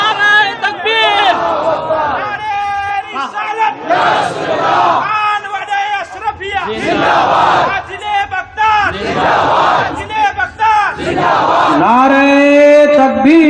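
A large crowd at a religious gathering roars a repeated chanted slogan response, loud voices surging in waves with shouted call-and-response bursts and general crowd noise between them.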